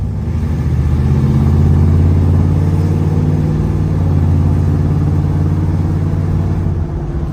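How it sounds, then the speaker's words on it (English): A Monte Carlo muscle car drives straight down the road, its engine giving a loud, steady low rumble with even, throbbing harmonics that hold constant throughout. "Monte Carlo drives straight down the road, guys."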